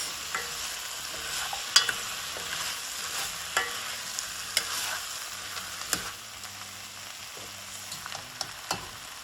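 A wild rice and mushroom mix stirred in a pot over sizzling heat: a steady frying hiss carries throughout, with a spoon scraping and tapping the pot in irregular strokes up close.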